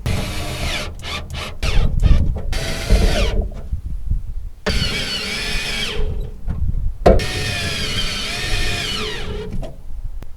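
Power drill driving fasteners into a 1962 Ford Falcon, several loud close whirring bursts with pauses between them as each fastener runs in.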